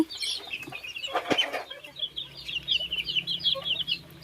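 Free-range village chickens on an organic smallholding cluck and chatter close by, a burst of louder calls early on, then a run of repeated high clucks over quieter background noise.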